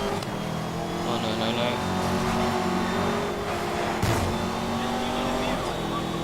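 A Koenigsegg Agera R engine in Need for Speed Most Wanted roars continuously at high revs, loud and close, with tire noise and a voice talking beneath.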